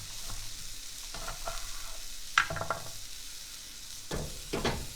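Onion charring in a hot tortilla pan while making guacamole, giving a steady close sizzle and frying hiss, with a few brief clatters from stirring and ingredients landing in the pan.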